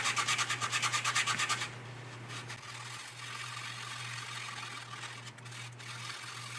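Sandpaper rubbing the plastic fuselage of a 1/32 Panavia Tornado scale model, a quick rhythmic scratching burst at the start, then quieter intermittent rubbing over a steady low hum.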